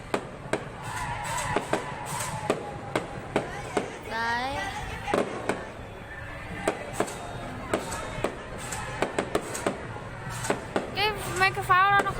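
New Year's Eve fireworks burst in a string of sharp pops and cracks at irregular intervals, some near and loud, others fainter. A person talks between and over the bangs, and crowd noise sits in the background.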